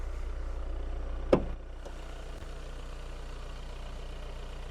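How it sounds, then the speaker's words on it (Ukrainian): A 2018 VW Touran 2.0 TDI diesel engine idles with a steady low rumble throughout, broken once by a brief click or knock partway through. "Двигун працює ідеально, абсолютно без зауважень."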